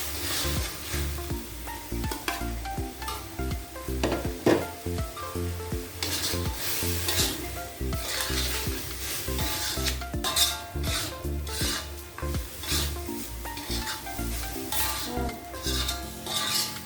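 Grated coconut stirred in a frying pan for Indonesian urap sayur, giving a continuous sizzle with steady scraping and rasping strokes of the spatula against the pan, loud and close with no talking.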